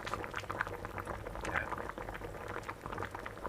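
Pork menudo with liver bubbling in a pot, a dense steady simmer of small popping bubbles at low volume, with no talk.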